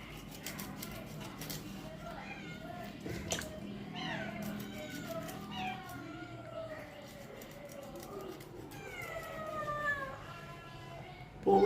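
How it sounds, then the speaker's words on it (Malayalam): A cat meowing repeatedly near tuna being skinned and cleaned, several drawn-out meows rising and falling at moderate distance over quiet background noise with birds faintly audible. "പൂച്ച വന്ന് നിൽക്കുന്നുണ്ട് നാല് ചുറ്റും."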